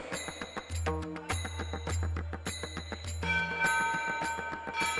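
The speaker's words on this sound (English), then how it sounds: "all the international delegates joining hands in ringing the bell of world peace." A world peace bell struck repeatedly by delegates at an interfaith summit, in an uneven rhythm, bright ringing tones overlapping and sustaining, with a low hum underneath; no voices.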